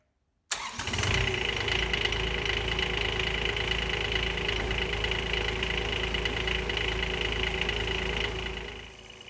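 Supercharged Kubota diesel swapped into a Honda AMR500 project car starts and settles into a steady, loud idle, a continuous close mechanical drone with a faint high whine running throughout.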